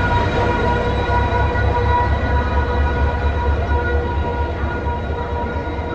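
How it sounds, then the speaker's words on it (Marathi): A passenger train rumbles steadily throughout, its low roar carrying a faint sustained whine on a journey toward Kalyan, heard up close with no talking. "काय ट्रेन आली आमची"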